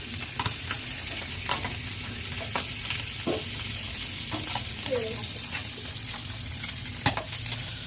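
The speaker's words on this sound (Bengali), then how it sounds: "এই জন্য একটা একটা করে ভাজে নেবো" Sea fish frying one piece at a time in a pan at night, giving a steady close sizzle with occasional sharp spatters and pops, and no talk.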